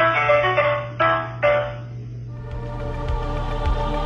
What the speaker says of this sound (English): When you call this number, it reveals a shorter 5-second tune